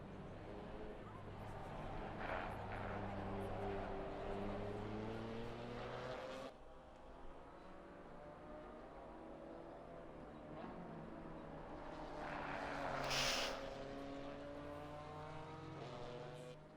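GT4 race cars lap Zandvoort in Assetto Corsa Competizione, engines rising and falling through gear changes and braking, with a second car's drone joining later, all under steady commentary voices.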